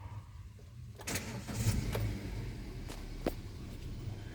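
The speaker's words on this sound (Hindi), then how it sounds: "एक बार जो है आप कार को स्टार्ट करो" A car engine cranks and catches, turning over about a second in and settling into a steady idle, heard close from beside the open window of a used car being inspected.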